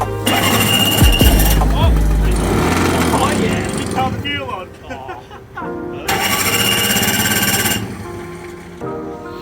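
An old car engine cranks and fires up, running roughly and loudly at close range, with a second burst of revving later on while people talk over it.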